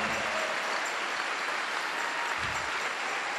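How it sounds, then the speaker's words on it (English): A crowd applauds at a ballroom dance charity event, a dense, steady wash of clapping that fills the whole stretch without a break. "Let's give these girls a round of applause"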